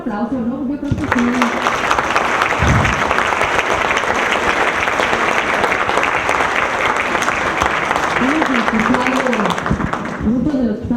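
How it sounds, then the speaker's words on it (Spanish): Sustained applause from a conference audience at a legal lecture series on transparency, dense and steady for about ten seconds, with a voice speaking over it at the start and again near the end. "Otro aplauso, ¿no?"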